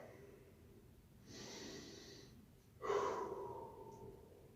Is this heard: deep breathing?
yes